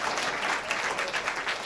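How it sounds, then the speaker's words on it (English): An audience at a public fire and life safety seminar applauds, a dense, steady burst of clapping from a crowd with no voice standing out. "Let's hear a round of applause."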